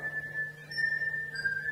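A seven-year-old child whistling, played back from a recording, a thin steady tone that wavers slightly in pitch, fairly faint over a low background hum.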